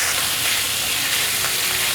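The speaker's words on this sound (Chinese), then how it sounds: "继续翻炒" Vegetables are stir-fried in a hot pan, giving a dense, continuous loud sizzle with faint stirring underneath, close up and steady throughout.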